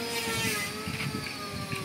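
A small wooden fishing boat's engine runs with a steady, close droning hum and a continuous buzzy tone, unbroken and with no talk.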